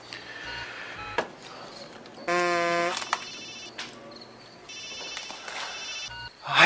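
A telephone rings in a quiet room, two bursts of electronic trilling with a pause between them, fairly clear and alone with no talk over it.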